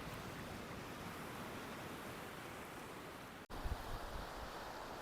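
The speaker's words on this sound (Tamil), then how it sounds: "நல்லா பெரிய பீச்சாக தான் இருக்குது" Ocean waves wash onto a large beach below Bekal Fort in Kerala, a steady broad hiss of surf with some wind noise, moderately faint, with a brief dropout near the end and no talking.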